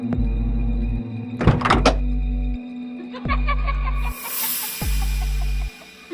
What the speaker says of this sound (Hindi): तभी उस खूनी दुल्हन ने कार का दरवाजा खोला